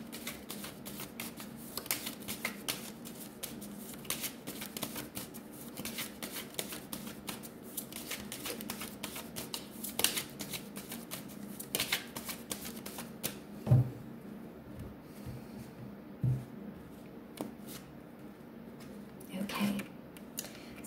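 Tarot cards being shuffled and drawn for a reading, a long run of soft rapid riffling and flicking that ends in a few distinct slaps as cards are set down, close up.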